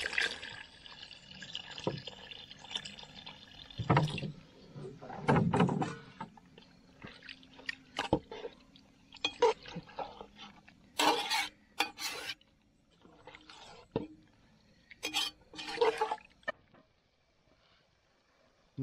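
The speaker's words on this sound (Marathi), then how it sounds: "टाक पाणी आता" Water is poured into a pan of chicken curry cooking on a wood-fired clay stove at a night campsite, with splashes, stirring and metal scrapes coming in scattered bursts over quiet outdoor background.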